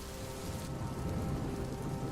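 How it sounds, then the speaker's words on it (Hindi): Heavy rain pours onto and drips from a shack roof during a stormy night, a steady dense hiss of water with a low rumble beneath it. "बारिश और तेज हो गई।"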